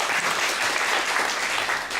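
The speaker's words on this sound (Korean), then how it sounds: "박수 한번" Steady applause from a church congregation, honoring the choir in a Korean service, fills the room as a continuous, even wash of many hands clapping with no voices on top.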